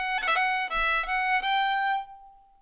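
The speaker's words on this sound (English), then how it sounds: "So that's where I would definitely play a long roll most of the time in this tune." Solo fiddle playing a quick long roll ornament in the Irish tune The Hag with the Money, a fast cluster of bowed notes resolving into one sustained note that fades out, close and clear.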